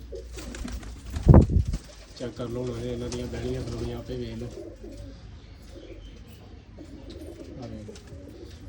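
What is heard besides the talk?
pigeons cooing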